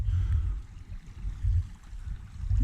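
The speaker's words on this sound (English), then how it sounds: "I stumbled upon a little creek here, stream, whatever you want to call it" A small creek flows outdoors in hilly Beaver County country, a low continuous rush and gurgle of water that swells and eases, heard up close with no voices.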